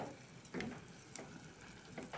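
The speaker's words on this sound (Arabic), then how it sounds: "دلوقتي بس هنزل عليها البصل" Onion and garlic frying in a pot for a rice and peas dish, a soft continuous sizzle with faint stirring clicks, quiet and close.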